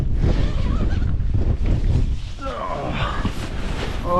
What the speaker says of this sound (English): God, it's been windy all the way here.